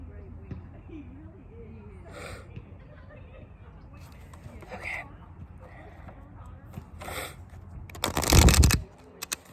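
Tarot cards are shuffled by hand in several soft, brief riffles spread out under quiet talk, with a louder burst of shuffling near the end.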